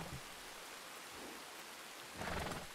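Steady, faint rain hisses in a thunderstorm in the video game Red Dead Redemption 2, with a low rumble of thunder swelling near the end and no voices.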